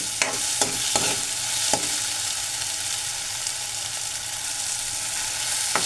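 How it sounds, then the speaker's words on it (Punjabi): Soft-cooked potatoes frying in oil in a pan for kadhi pakora, a steady sizzle throughout, with several sharp scrapes and knocks from a ladle stirring near the start. "ਆਲੂ ਆ ਜਿਹੜੇ ਆਪਣੇ ਪੱਕ ਗਏ ਆ ਬਿਲਕੁਲ ਸੌਫਟ ਹੋ ਗਏ ਦੇਖ ਲਓ ਉਹੀ ਕੜਛੀ ਨਾਲ ਟੁੱਟ ਰਹੇ ਨੇ"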